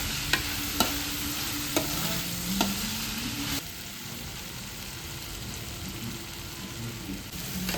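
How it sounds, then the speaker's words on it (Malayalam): Onions and tomatoes sauté in oil for a chicken curry, a steady close frying sizzle broken by a few sharp spoon scrapes and taps against the pan early on, then continuous hiss alone. "ഇനി നമ്മൾ ഇളക്കി കൊടുക്കണം, അല്ലെങ്കിൽ അത് അടിയിൽ പിടിക്കും"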